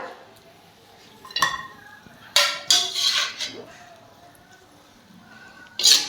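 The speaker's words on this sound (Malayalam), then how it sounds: "നമുക്കിതൊരു പ്ലേറ്റിലേക്ക് മാറ്റാം" Dragon chicken with cashews and raisins being moved from a pan onto a plate in a home kitchen, with a few scattered clinks and scrapes of utensil on metal and dishes, some sharp, between quieter stretches.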